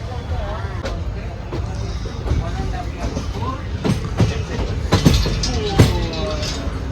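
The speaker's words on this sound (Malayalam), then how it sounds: "ഞാൻ പറഞ്ഞില്ലേ നമ്മുടെ ട്രെയിൻ സ്പീഡ് എടുക്കണത് വേഗാട്ടോ" The Nagercoil Express gathers speed after leaving a small station, its wheels clacking rhythmically over rail joints amid a steady rumble. People talk over the running train.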